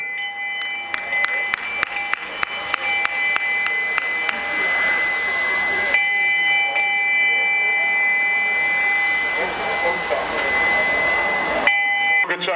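Bell rung to announce a points-scoring round at a 2016 Schifferstadt bicycle race for KT and A/B classes, a rapid series of sharp metallic strikes in the first few seconds, steady and close, with crowd and race noise continuing behind.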